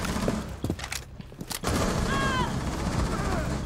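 Gunfire in the video game Rainbow Six Siege: a quick cluster of sharp shots early on, then a short rising electronic chirp over steady game ambience.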